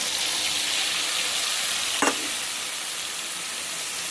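Spice masala soaked in water is poured into a hot pan, giving a loud, continuous close sizzle with one sharp splash-hiss burst midway that settles back into steady frying.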